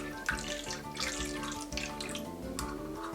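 Tap water runs steadily into a sink to rinse out a cheap party wig, a continuous close splashing stream with a faint rhythmic mechanical patter underneath.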